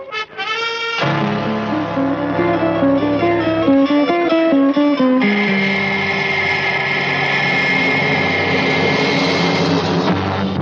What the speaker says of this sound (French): monsieur Striker, un avion pénètre dans la zone G6.